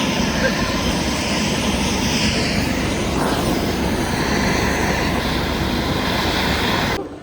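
Loud, steady roar of an airplane engine at Agatti Island, Lakshadweep, close and continuous, with a broad rushing drone that holds level throughout before dropping off at the very end.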